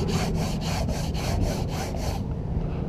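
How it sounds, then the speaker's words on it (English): Hand sanding filler on a catamaran deck with 220 grit sandpaper: about eight even, rhythmic rasping back-and-forth strokes, close and fairly loud, then stopping. "I can hand sand this out with 220"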